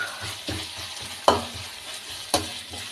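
Tomato thokku sautéed and stirred in oil in a pan: a steady low sizzle with soft scraping stirs, broken by two sharp spoon knocks against the pan.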